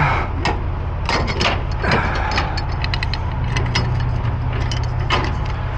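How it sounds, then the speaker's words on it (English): A trucker cranks up the landing gear on a semi-trailer, a series of quick mechanical clicks and clunks over a loud, constant rumble from the idling rig nearby. "Let's crank up our gear here."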